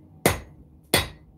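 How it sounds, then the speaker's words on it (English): A hammer strikes a steel knife blade while forging a bevel along one edge, landing two sharp, ringing blows about 0.7 seconds apart, each fading quickly, heard up close. "angling the hammer in the piece of metal,"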